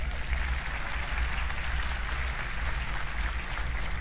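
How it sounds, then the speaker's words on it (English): Audience applause at the Roblox RDC developer event, a dense, steady wash of many hands clapping at once that stays loud and continuous throughout. "Let's give him a round of applause."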